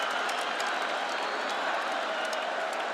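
A UFC 202 arena crowd roars and applauds after a fight, a dense continuous wash of cheering and clapping with no pauses, loud and steady throughout.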